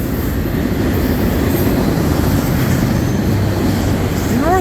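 A CN freight train, M357 led by locomotive 2872, rolls past at Ladysmith in a continuous loud rumble of wagons and wheels, with squealing wheels rising at the very end.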